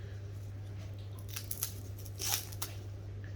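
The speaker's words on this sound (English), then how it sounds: "So we're going to cut off the tip of the onion" A kitchen knife trims the tip off an onion in a few faint, crisp crunching cuts over a steady background hum.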